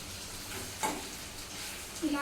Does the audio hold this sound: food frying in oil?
yes